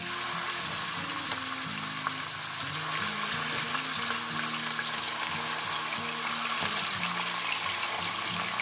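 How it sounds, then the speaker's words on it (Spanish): Beef hits hot oil in a pan for a veal and celeriac vegetable dish, producing a steady, dense sizzle that continues throughout with background music playing. "Una vez que ya tenemos el aceite caliente, ponemos la carne."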